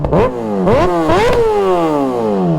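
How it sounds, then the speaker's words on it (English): A sport motorcycle engine, a Kawasaki ZX6R or Yamaha R6, revs in several quick, loud bursts that climb and fall back, close by with no talk over it. "I'm gonna get a few little revs."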